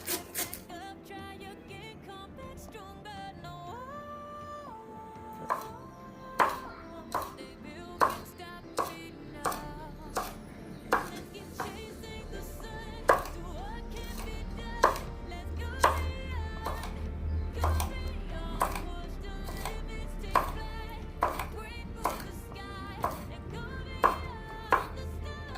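Leeks, carrots and cabbage are chopped small for chicken fried rice, with a knife striking a cutting board in steady, evenly spaced knocks about once a second over soft background music.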